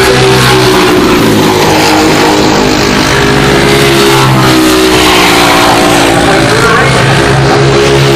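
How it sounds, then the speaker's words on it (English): Race cars in a 206 Cup race lapping a track, loud sustained engine roar with shifting pitch as cars pass, and commentary running over it. "still right behind Connor Bruce in that 28 machine."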